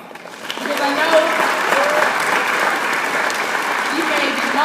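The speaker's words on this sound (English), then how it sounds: "Give yourselves a round of applause." Audience at a partnership event breaking into applause, clapping swelling within the first second into a sustained roar, with scattered voices and cheers mixed in.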